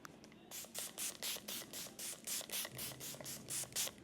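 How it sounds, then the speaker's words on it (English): Setting spray misted onto a face in a run of about a dozen short, rhythmic pump-spray bursts, close and fairly loud, with no talking. "I want to use setting spray now on my face."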